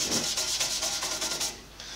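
Cleaner being wiped off a cast iron table top with a rag, a steady close rubbing and scrubbing swish in repeated strokes that fades slightly near the end.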